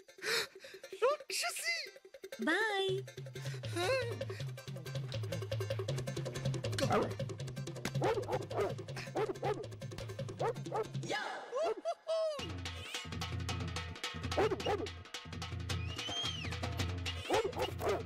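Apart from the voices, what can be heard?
dog barking and whimpering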